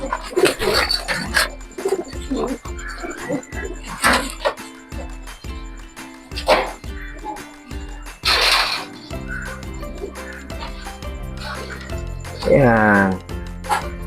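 Racing pigeons cooing during a derby race event, several soft repeated coos mixed with other bird calls and clatter, heard under steady talking.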